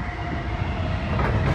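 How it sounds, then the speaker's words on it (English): A London Underground Bakerloo line 1972 stock train rumbles steadily along the track at close range, with a low roar and faint rattling throughout. "This is a Bakerloo line train to Elephant and Castle."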